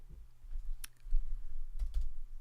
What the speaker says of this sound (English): I'm going to try and type this right first time.